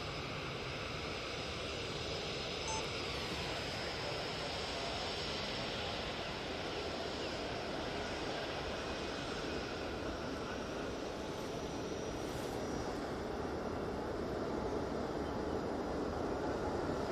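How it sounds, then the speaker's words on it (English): A jet aircraft taxiing at Manchester Airport gives off a steady, broad engine roar and whine that holds evenly throughout, heard from some distance outdoors with no talking. "These jets now departing."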